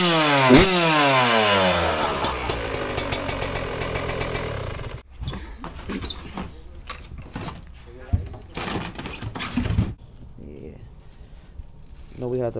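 A Yamaha YZ125 two-stroke dirt bike, a 50th anniversary edition, revs hard for a burnout, its loud rising engine whine up close for several seconds before choppy throttle blips and rattles, with people talking nearby.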